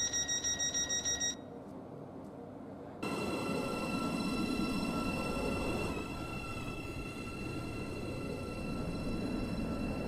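A Roblox SCR game train on a Waterline service hums steadily along with a bright electronic tone and faint rail noise, following a short series of rapid beeps at the start.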